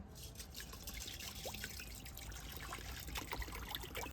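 Six hundred grams of water trickles onto a handful of sago in a pot, a soft continuous close pour with faint splashes.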